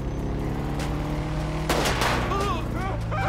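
Gunfire in the GTA 5 video game, a broadband burst of several shots around the middle, heard over game music and a low engine drone.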